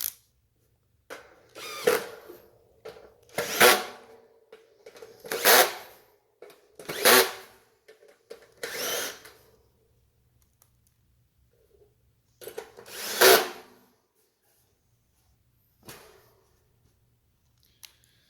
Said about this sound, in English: I'm going to go ahead and tighten these screws.